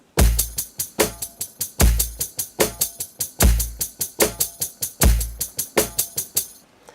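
Punchy electronic drum hits played by finger on drum machine pads in a steady, fast 16th-note pattern, kick thumps anchoring each beat with crisp hi-hat ticks filling the even subdivisions between.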